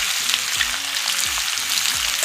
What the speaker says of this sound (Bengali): তেল এবার গরম হয়ে গেছে, কেটে ধুয়ে রাখা আলুগুলো দিয়ে দেব।